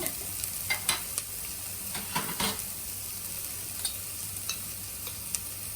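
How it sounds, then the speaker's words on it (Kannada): Ginger garlic paste hits onions frying in a pan for rajma pulao, giving a steady close sizzle with scattered crackles and brief spoon-stirring scrapes throughout, no voices. "ಈಗ ಈರುಳ್ಳಿ ಫ್ರೈ ಆಗಿದೆ. ಈಗ ಶುಂಠಿ ಬೆಳ್ಳುಳ್ಳಿ ಪೇಸ್ಟ್ ಹಾಕೋಣ"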